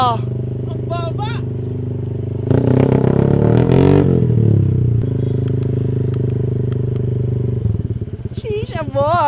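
A Honda Click V4 scooter fitted with a new exhaust pipe idles and rolls close by, its engine drone rising briefly to a louder rasp before settling back, while excited voices chatter around it.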